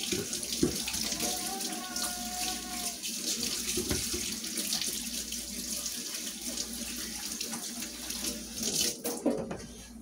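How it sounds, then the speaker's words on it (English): Hands being washed under a running kitchen tap during home cooking of breaded chicken, a steady close rush of water with faint splashing and rubbing throughout. "Let me wash my hands."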